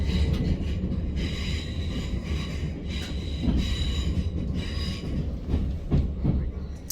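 A train rumbles along beside a platform at Clapham Junction station, a steady low roar with metallic wheel squeal and clatter throughout, fairly close.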